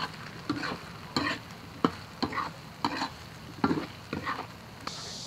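Chili bean paste, ginger and garlic stir-fry in a wok for spicy beef noodles, a soft sizzle broken by regular rhythmic scrapes and tosses of a spatula, close and moderately loud.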